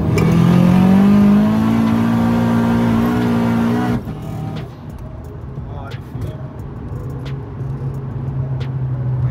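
A 600 hp big-turbo front-wheel-drive VW Scirocco with DSG gearbox revs hard and roars as it accelerates, tyres squealing, then drops to a lower rumbling drone with passing road noise.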